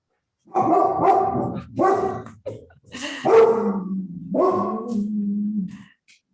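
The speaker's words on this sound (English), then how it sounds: "That's my dog, Cody, barking in the background." A dog barking indoors in several loud, close bursts with short pauses between, some drawn out into a growling bark, heard alone without talking.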